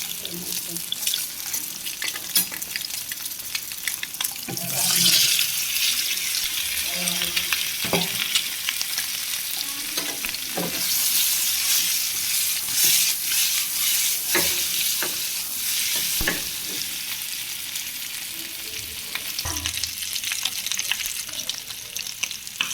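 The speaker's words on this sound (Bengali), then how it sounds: "ডিমটা লাল লাল করে ভেজে নেব, তারপরে আলুগুলো দিয়ে দিব।" Eggs and potatoes fry in a pan, a steady hiss of sizzling oil with scrapes and clinks of stirring throughout, louder bursts as food is moved around.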